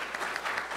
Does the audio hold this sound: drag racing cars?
no